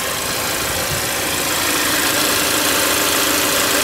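A 2015 Hyundai Santa Fe engine idles steadily and loudly up close, a constant low rumble with a slight rough vibration and no other sounds.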